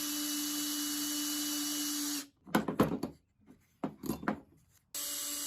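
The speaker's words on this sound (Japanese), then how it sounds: "パーツをクランプで動かないように留めてからドリルで穴を開けます。" A power drill bores holes through clamped wooden axe sheath parts: a steady motor whine runs, then breaks into several short, rough grinding bursts as the bit cuts the wood, before the whine returns.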